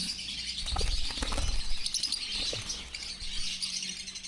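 Pet birds kept in cages, including cockatiels, chirp and flutter their wings in a steady busy mix of tweets and wingbeats, close by and with no one talking.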